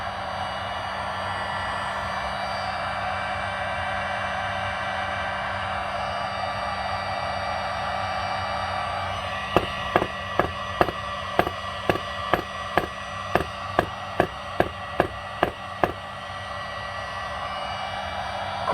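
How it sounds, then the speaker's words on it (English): A heat gun blows a steady, airy hiss while heating a stuck Meghrig coin tube from a few inches away, then a rapid series of about fifteen sharp taps or knocks joins in. "Let's go around it with a heat gun."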